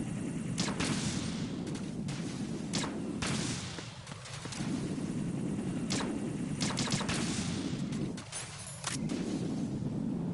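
Suppressed gunfire in Metal Gear Solid 2: a series of sharp, close shots in short clusters over a steady game background, with a couple of brief dips between bursts.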